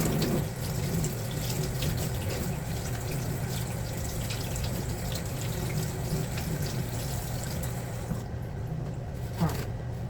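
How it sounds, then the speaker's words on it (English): Tap water runs steadily into a kitchen sink while hands are washed, a soft continuous splashing hiss that stops near the end. "I'm gonna wash my hands again."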